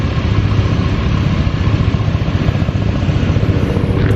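A helicopter passes over an off-road Halloween wheeling event in the countryside, its steady, loud rotor chop and engine drone filling the whole stretch without pause.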